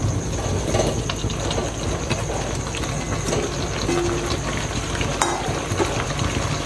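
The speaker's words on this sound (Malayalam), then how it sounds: "എന്നിട്ട് നല്ലോണം തന്നെ മിക്സ് ആക്കി കൊടുക്കാം." Masala being stirred and mixed into a rice flour dish in a pan, a steady scraping stir with a soft frying sizzle running continuously underneath, close and fairly loud.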